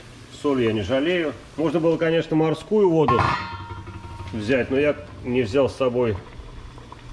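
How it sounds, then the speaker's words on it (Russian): Someone talks continuously over a steady low bubbling of heavily salted water boiling in a pot nearby, ready for cooking crabs. "Вот у меня вода здесь уже кипит."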